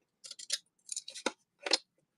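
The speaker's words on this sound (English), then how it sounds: "I know not everybody likes the sound of these, but I still like using these scissors." Decorative edge scissors chomp through a paper bag in a series of crisp, close crunching snips, grouped in quick bursts with short pauses between.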